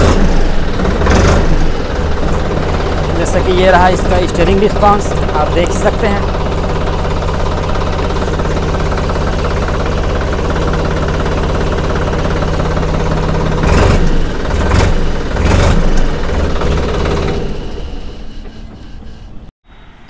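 A 2020 ACE DI 550 NG 50 hp tractor's diesel engine runs at a steady, loud, rumbling idle with a knocking throb, with a few clanks as the steering is worked. Someone talks over it, and the engine fades out near the end.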